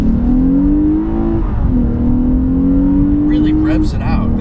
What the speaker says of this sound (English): This engine loves to hit the red line, loves it, and feels like a really quick rever overall